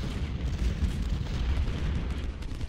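Artillery fire in the Ultimate General: Civil War video game during a battle at Bayou Fourche, a continuous low rumbling barrage of distant booms blending into a dense, steady roar without clear pauses.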